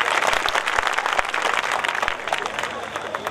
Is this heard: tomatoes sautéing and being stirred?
no